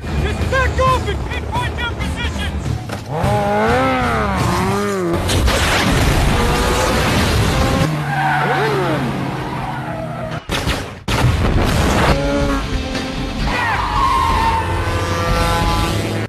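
Motorcycle chase scene from a film, carrying a stolen virus and antivirus toward a beach, with skidding, engine roars, gunfire and booms layered under loud dramatic score and shouted voices, dense and continuous throughout.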